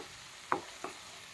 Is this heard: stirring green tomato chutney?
yes